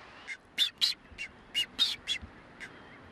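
Seabirds calling in a nesting colony of boobies and frigate birds on Isla Isabel, Mexico: a series of about nine short, sharp, harsh calls in uneven rhythm, moderately close, with quiet background between them.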